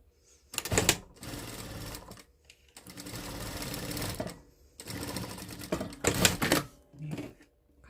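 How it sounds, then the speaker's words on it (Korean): A sewing machine runs in several short and longer bursts while stitching leggings fabric, with quiet pauses between runs; the motor whirs and the needle clatters rapidly, and no one speaks. "간단하게만 그냥 박음질 해주시면 돼요."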